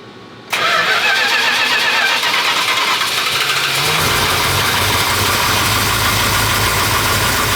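Engine firing up on new fuel after repeated attempts: a sudden loud catch, then a steady, rough, close idle that settles into a deeper rumble and runs on continuously.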